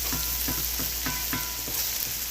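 Rice and egg sizzle steadily in a frying pan for Jamaican-style black fried rice, a constant crackling hiss punctuated by regular scraping stirs, close and fairly quiet.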